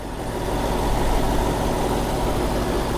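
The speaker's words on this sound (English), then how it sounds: "The engine's nice and quiet." A 2001 Toyota Celsior (Lexus LS430) engine idling steadily, a smooth, even low hum that holds at a constant level, heard close and without any talk.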